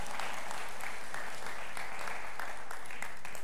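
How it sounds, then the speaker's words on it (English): A church congregation applauds steadily for a performer, a loud, continuous wash of clapping from many hands. "So, yeah, you can clap for Ben."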